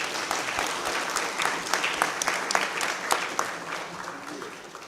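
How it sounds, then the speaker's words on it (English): An audience at a university book launch claps for Dr. Phosa, a moderate, fairly sparse round of applause with crisp individual claps close by, rising and falling unevenly. "Can we give Dr. Phosa a big round of applause?"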